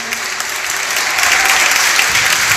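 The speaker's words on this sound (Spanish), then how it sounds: "Un aplauso para Laureano" Audience applause at a book presentation, a dense, steady wash of many hands clapping that swells slightly and holds loud throughout, with no speech over it.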